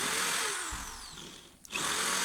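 A power drill with a bit bores dowel holes into wood, its motor whining steadily and close, then dipping and stopping briefly before spinning back up at full speed.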